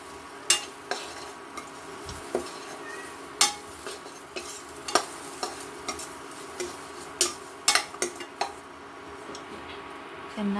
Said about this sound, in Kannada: ಚೆನ್ನಾಗಿ ದಪ್ಪ ತಳ ಇರೋ ಪಾತ್ರೆ ತೊಗೊಂಡು ಇದನ್ನು ಫ್ರೈ ಮಾಡ್ಕೋಬೇಕು ಸಾಂಬಾರಿಗೆ